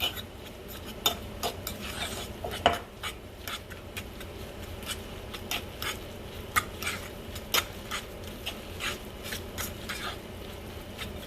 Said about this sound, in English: I'm going to add some garlic salt. We'll mix this.